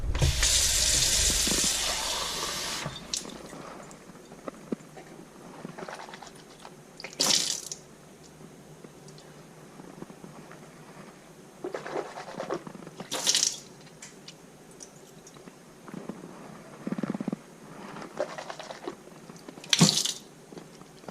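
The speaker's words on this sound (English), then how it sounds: "rinse my mouth out with some water" A faucet runs in a sink for a couple of seconds while someone rinses their mouth. Scattered spits, splashes and short bursts of water follow, close and fairly quiet, with no talking.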